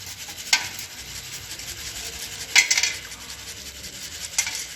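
Roasted peanuts are rubbed over a metal strainer to strip their skins, making a soft, steady rasping scrape near at hand with a few sharper rattling bursts, and no voices.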